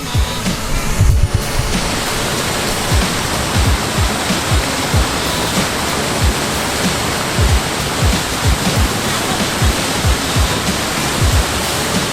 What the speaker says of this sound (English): There's a waterfall back there.